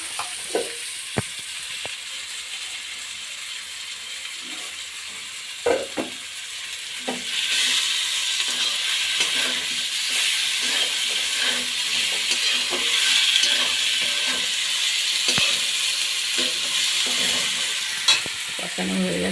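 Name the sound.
frying fish for fish curry in a wok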